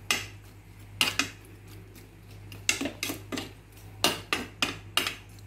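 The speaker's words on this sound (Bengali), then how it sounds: "নাপ্পি ঝোলের উপর তিতা করলা একটু নেড়ে চেড়ে দিই।" Bitter gourd is stirred into nappi curry in a pot. Irregular metallic clanks and scrapes of a spoon against the pot ring out close over a low steady hum, with no talking.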